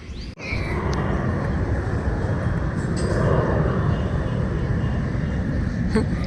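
An airplane flying overhead, heard as a steady, loud broadband roar that holds for several seconds outdoors, with a brief thump at the start and faint voices around it.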